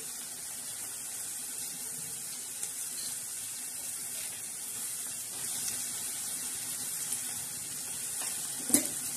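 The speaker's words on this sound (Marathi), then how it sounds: "आता आपण चण्याची डाळ टाकणार आहे." Chana dal tipped into a hot tempering for a spicy cabbage dish gives off a steady, soft sizzling hiss, with a single sharp clink near the end.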